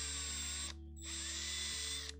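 A power drill bores out holes in 3D-printed parts for a DIY MILO V1.5 CNC machine build, running as a steady whine that cuts off briefly near the middle and then resumes, over a constant low hum.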